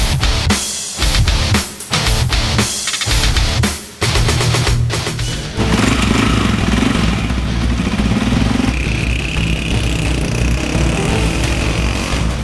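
A motorcycle rides along a mountain road in northern Pakistan, its engine droning steadily close by with clattering bursts and surges early on, then a continuous loud rumble with wind noise.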